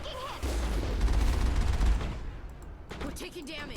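Sustained gunfire and explosive rumble in the Mass Effect video game, a dense continuous barrage with deep booms underneath and a few voice-like sounds near the end.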